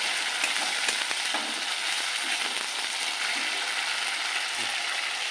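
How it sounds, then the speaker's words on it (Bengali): Chopped tomatoes fry in a pan with cumin, ginger, coriander and chilli, producing a dense close sizzle with occasional stirring scrapes and small pops. "মশলাটা দিয়ে একটু ফ্রাই করে নেব"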